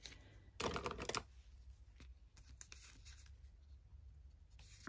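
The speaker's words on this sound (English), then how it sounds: "So I'm going to cut the card" Card stock being cut for a handmade journal, a short burst of crisp cutting and rustling up close, followed by scattered light taps and handling noises against a quiet room background.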